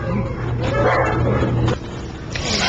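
A little shelter dog lets out a few short, close yips and barks amid some background noise.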